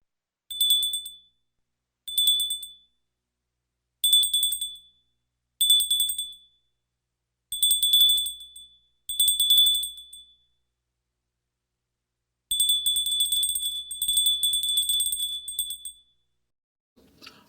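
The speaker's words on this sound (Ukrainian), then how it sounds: "це дзвоники" Small bells ring bright and clear in a musical guessing game, struck in six short separate bursts followed by a longer, continuous jingling stretch, with silence between.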